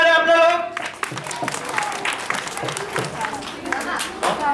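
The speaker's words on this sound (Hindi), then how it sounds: "तालियां मारे आप लोग।" Audience applause at a school annual day celebration, a brief tonal voice at the start, then steady clapping from a crowd with a voice speaking over it.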